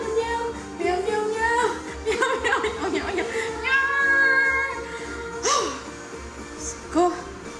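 A person playfully imitates a cat with a string of sing-song meows during a TikTok live, mixed with chuckles and light laughter, loud and close.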